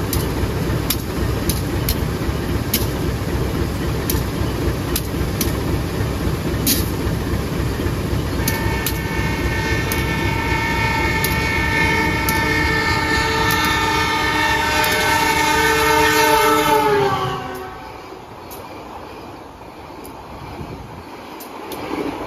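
The Malabar train speeds loudly past a station, a sustained rumble with rhythmic wheel clicks and a long, blaring horn, before the noise drops away as it passes.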